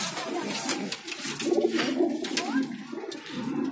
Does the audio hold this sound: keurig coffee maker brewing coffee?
no